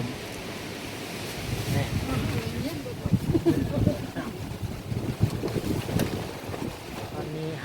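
Wind blowing outdoors during a meal near a forest stream, a steady low rumble and buffeting across the microphone, with people talking over it throughout.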